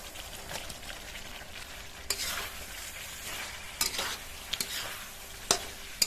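Bitter gourd hits hot spiced oil in a pan, giving a steady close sizzle with scattered sharp clicks of stirring, no voices.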